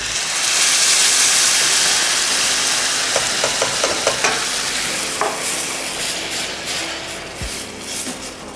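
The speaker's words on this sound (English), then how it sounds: "Next, we're going to be adding our lovely tomato puree." Tomato puree going into a hot pan of sizzling tadka tempering for pink sauce spaghetti, a steady loud sizzle with scraping stirs and small clinks, continuous throughout with no talk.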